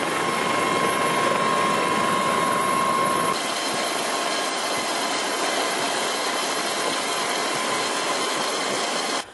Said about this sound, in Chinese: 救助直升机随即展开救援